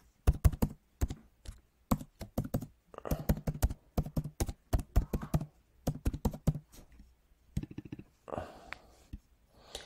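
Fingers typing on a computer keyboard, close and crisp, in quick bursts of keystrokes separated by short pauses, ending with a few scattered taps and a soft shuffle.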